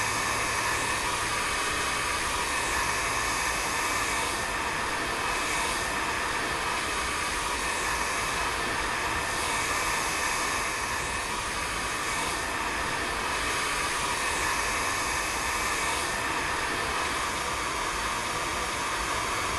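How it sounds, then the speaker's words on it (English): A heat gun in a VR roofing game powers up and runs as a loud, steady, broadband hiss and whoosh, continuous and close, with no speech over it. "Turn on the heat gun by holding the button at the lower end until the green circle is fully charged."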